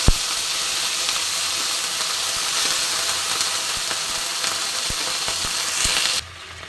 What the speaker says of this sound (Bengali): মশলাটা সুন্দর করে কষা হচ্ছে